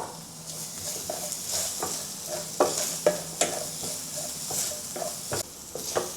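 Garlic, ginger and the white part of green onions frying in a pan after browning minced pork: a soft steady sizzle with periodic spatula scrapes and stirring knocks, close up.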